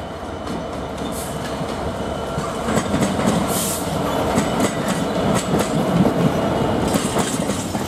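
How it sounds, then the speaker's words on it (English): A Class 66 diesel locomotive hauls a Freightliner container train past at close range, its steady engine rumble and wagon noise building with rhythmic clickety-clack of wheels over rail joints, heard alone without any talk. "Shortly after this, 66546 heads through with a Freightliner container train."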